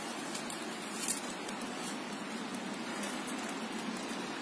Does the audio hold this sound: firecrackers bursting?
no